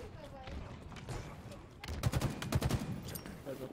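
Gunfire in a first-person shooter video game, with a cluster of sharp, rapid cracks landing close together in the middle of the passage over a low battle ambience, with voices faintly underneath.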